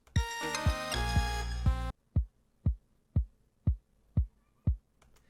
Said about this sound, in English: Lower kick sounds like this.